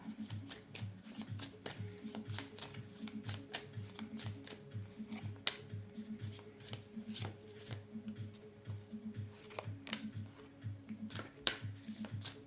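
Tarot cards being shuffled by hand in a steady run of crisp, papery riffles and flicks, close and fairly quiet, with no talking.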